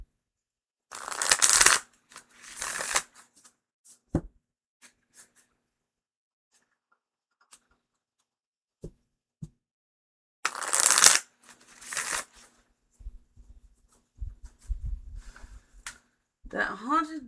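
Tarot cards are shuffled up close in several crisp riffling bursts separated by quiet pauses, with soft taps and handling sounds between them and a voice speaking briefly near the end.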